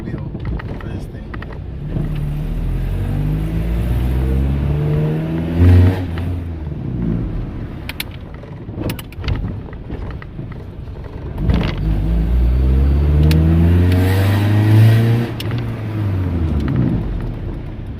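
A 1991 Honda Civic EF with a swapped D16 engine runs up in loud revs after a cold start, rising and falling in two long sweeps over a rough idle, with someone talking nearby.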